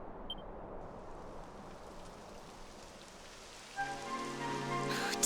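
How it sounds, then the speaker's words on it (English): Rain starts falling in the Dragon Quest XI video game: a soft, faint hiss gives way to a louder, denser patter partway through, under a quiet musical tone, with no voices. "It would have to go and start raining, wouldn't it?"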